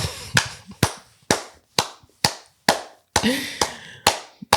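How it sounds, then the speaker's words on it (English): Loud, sharp claps at a slow, steady pace, about ten in under five seconds, each ringing briefly. They are close and isolated rather than a dense wash of applause, as if from one or a few people at a podcast recording. "Round of applause"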